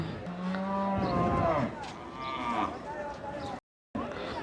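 A cow at a busy cattle market in Suhilpur, Brahmanbaria, gives a low, drawn-out moo close by, with people talking over the crowd noise throughout.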